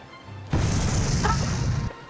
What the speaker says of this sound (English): sailboat was destroyed in an explosion